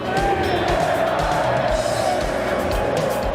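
Fluminense supporters sing and roar in unison inside the Maracanã stadium, a dense, loud, continuous crowd wall of voices with rhythmic thumps underneath, sustained through the whole stretch.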